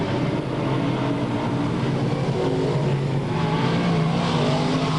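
Race cars roar past the start-finish line in a continuous loud engine drone at an Albany-Saratoga track race, engines blaring steadily close by with no break.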